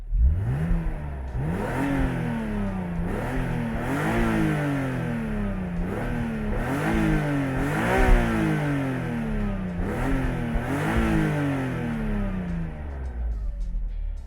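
A BMW Z3 M Coupe's naturally aspirated inline-six revs repeatedly up and down, about eight rising-and-falling sweeps in steady rhythm, loud and close with no talking.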